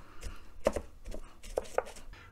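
A knife works garlic and pepper into a paste on a board, with irregular close taps and scraping chops, a few sharper strikes standing out over light background noise.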